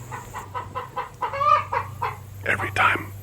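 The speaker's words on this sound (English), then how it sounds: "Every time one of my chicken lays an egg. Oh, it stopped. They just cackle and cackle and cackle and cackle." Chickens cackle after laying an egg, a rhythmic series of clucks building to louder squawks, heard close over a steady low hum.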